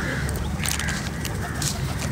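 A flock of geese or ducks honks and calls in steady outdoor chatter, several birds close by, with a low background rumble throughout.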